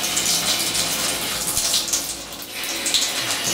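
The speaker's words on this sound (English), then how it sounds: "So this is the control for the cold water." A cold water tap in a hotel bathtub runs steadily, its gushing splash loud and close into the tub.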